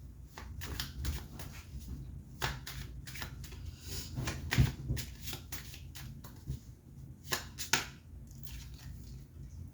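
Tarot cards shuffled by hand and drawn from the deck, a close run of crisp riffling and flicking bursts with short slaps and pauses between, no voice over them.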